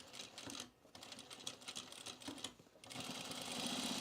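A sewing machine runs a back stitch along a jeans seam, pulsing in short bursts with a brief pause, then running steadily and loud in reverse over a thick bump of denim.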